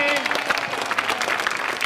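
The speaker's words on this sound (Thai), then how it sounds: "ขอเสียงปรบมือหน่อย" Steady applause from a crowd, continuous clapping throughout at a fairly loud level with no pauses.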